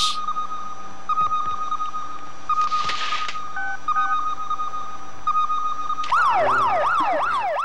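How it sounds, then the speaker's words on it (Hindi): A fire engine siren wails, rising and falling in rapid sweeps near the end, preceded by steady electronic tones and beeps. "ये फायर ब्रिगेड की आवाज है।"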